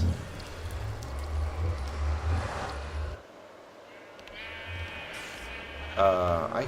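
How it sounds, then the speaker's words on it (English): Several sheep bleat in a video game server world, with wavering calls rising over a steady low background hum, the loudest bleat coming near the end. "I hear a lot of sheep, I'll tell you that."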